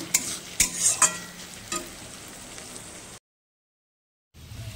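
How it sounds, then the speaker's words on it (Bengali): Cumin powder, Kashmiri chilli and turmeric sizzle and hiss in a hot pan, with a few sharp scraping stirs near the start, then a brief dropout before the frying resumes. "আর এখানে মশলাটা কষানো হচ্ছে।"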